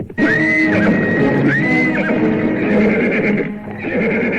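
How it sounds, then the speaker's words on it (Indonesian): Horses being ridden neigh loudly and close by, two shrill whinnies in quick succession followed by snorting and a hoofbeat-like rumble underneath. "Mereka terus memacu kudanya ke arah selatan"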